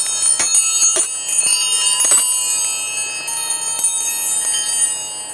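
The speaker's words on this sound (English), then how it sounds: "It's kind of like a space station wind chime." Metal tools floating loose aboard the International Space Station tap and clink against one another like a wind chime, giving bright ringing tinkles in an irregular cluster, close and fairly loud with lingering tones.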